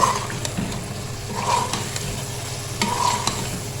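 A spoon stirs black pepper and garam masala into sizzling chicken karahi, making repeated scraping strokes against the pan over a constant close frying hiss, with no voices.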